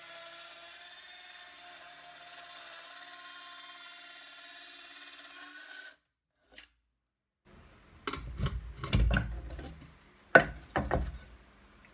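A Parkside PHKSA 12 A1 12V cordless circular saw cuts wood after a steady whir and a pause, leaving a string of loud, close, rough bursts of blade bite and clatter with no talk.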